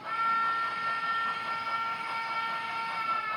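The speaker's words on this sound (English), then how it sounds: "I've been running the train this whole time." A model railway train runs along a layout with a steady, fairly faint whir and hum that continues without breaks.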